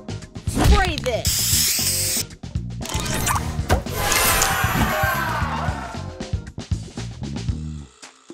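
A spray power-up effect in a match-three video game fires off as a bright hissing burst among layered chimes, whooshes and sparkly game sounds, with an announcer voice heard over the effects.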